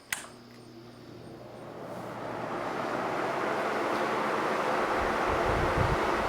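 An Air King Model 9155 16-inch window fan with plastic blades runs on high intake, its broad whooshing airflow rising steadily and then holding as a constant, fairly loud rush.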